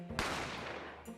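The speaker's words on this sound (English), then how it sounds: "I didn't have time to think about where the sound of the gunshot had come from" Single sharp gunshot in The Great Ace Attorney Chronicles, a sudden loud crack followed by a decaying echo over about a second, alone with no voices.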